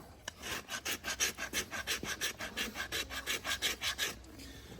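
A farrier's rasp files down a horse's hoof in quick, even back-and-forth strokes, about eighteen gritty scrapes in a steady rhythm, close and clear with no talking.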